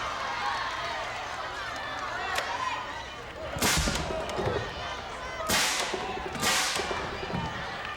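Several sharp, loud pneumatic bursts from a tennis ball cannon fire at intervals over a noisy crowd-like background during a televised American Gladiators competition, with an announcer talking throughout.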